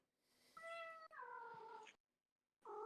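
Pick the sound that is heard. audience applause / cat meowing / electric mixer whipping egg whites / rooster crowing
cat meowing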